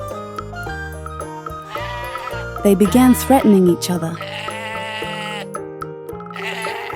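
Cartoon goats bleat loudly in an animated children's moral story, a burst of wavering bleats in the middle amid narration and background music.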